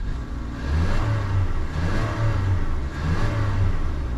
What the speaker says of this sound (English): let's go ahead and hear a little bit of that EcoBoost engine